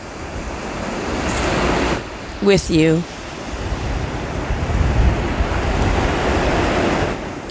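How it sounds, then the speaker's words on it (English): Ocean surf washing steadily onto a beach, a continuous broadband rush that carries through the whole stretch, with a brief spoken phrase in the middle. "Being able to sit on a beach"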